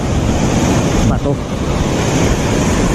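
Large ocean waves crash on a sharp, rocky shore, a loud continuous roar of surf with strong wind buffeting the microphone.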